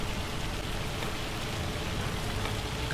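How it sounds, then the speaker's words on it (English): Steady hail hammering down in the farming game Farming Simulator 25, a dense, even wash of drumming noise holding at constant loudness throughout, with no voices over it. "It's still hailing"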